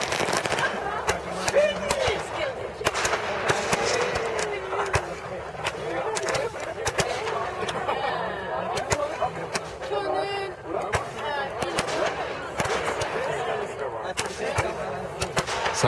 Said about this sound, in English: Sometimes I get scared of fireworks.